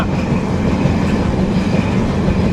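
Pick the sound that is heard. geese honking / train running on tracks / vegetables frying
train running on tracks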